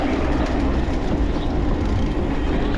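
An electric commuter train passes close by, a loud, continuous rumble of wheels on rails with rhythmic clatter throughout.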